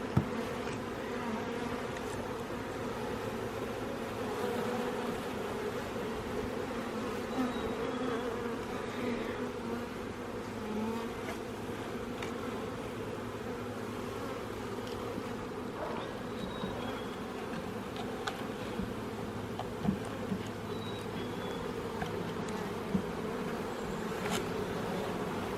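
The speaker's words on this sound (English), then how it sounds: "So see these girls with their bums in the air, fanning?" Honeybees buzzing steadily around a newly installed hive, a dense continuous drone close by with individual bees passing near, no voices.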